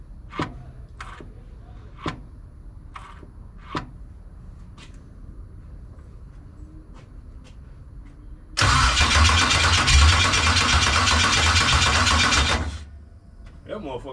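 A 1989 Chevy engine cranks loudly and steadily for about four seconds, straining and trying to fire up after a few sharp clicks and knocks, then cuts off.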